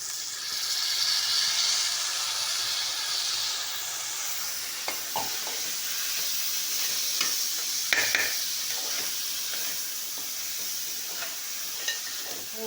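Rice tossed into a hot pan with spices for masale bhat sizzles steadily, with scattered stirring scrapes and clinks from a spoon against the pan, close and alone.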